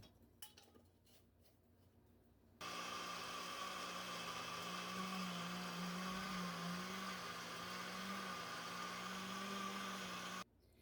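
A NutriBullet blender whirs steadily for about eight seconds as it mixes mushroom coffee powder, a loud close motor drone that starts abruptly and cuts off just as suddenly, with quieter kitchen handling before it.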